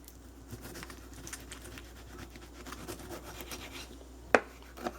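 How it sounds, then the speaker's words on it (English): A knife slices through a tomato in soft, repeated rubbing cuts, with one sharp click of the blade on the board near the end; close and quiet, no speech. "We're slicing tomato."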